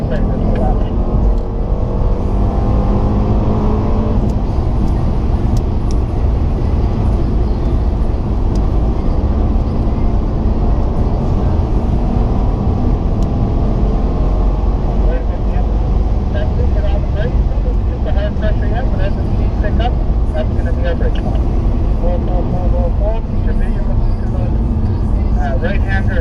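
A Mercedes C63 lapping a race track, its engine roaring in a steady, loud, unbroken drone with tire and wind rush, as someone talks over it throughout.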